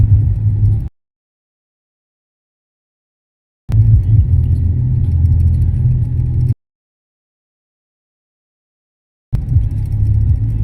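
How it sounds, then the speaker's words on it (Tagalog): Car engine droning from inside a vehicle in slow road traffic in Pasay, a steady low rumble heard in three separate stretches with complete silence cutting in between them. "Traffic."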